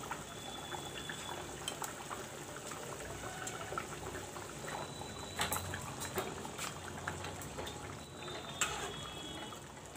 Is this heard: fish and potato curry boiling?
yes